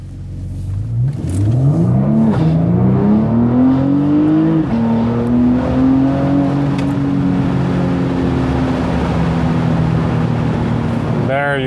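A 2021 Porsche Panamera 4S E-Hybrid Sport Turismo pulls away in Sport Plus mode, its V6 revving loud and close. Its pitch climbs through gear changes, then holds a steady droning cruise.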